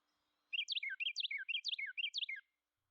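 A songbird sings a rapid warbled phrase four times in quick succession, clear and bright against a silent background.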